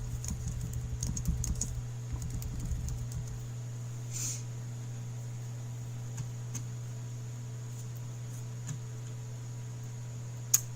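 Typing on a computer keyboard, faint scattered key clicks and taps spread sparsely through the clip over a steady low electrical hum, with a brief burst of rumbling handling noise near the start.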